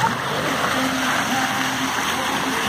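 Steady rushing of water from a small waterfall in a children's park at night, a continuous broadband roar with no voices, close and fairly loud throughout.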